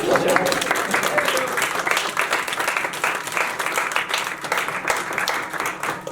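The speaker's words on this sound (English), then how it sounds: "a round of applause for Jimmy" An audience applauds after a stand-up comedy set, a loud sustained burst of many people clapping close by, dense and continuous with a faint voice briefly mixed in.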